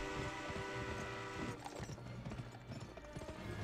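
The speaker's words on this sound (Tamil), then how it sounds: "இப்போ ட்ரெயின் நவுருது" A train rolls along in a Tamil-commented shooter video game, a steady rhythmic clatter of wheels and rumble with sharp percussive clacks growing busier partway through, dense and continuous without any speech.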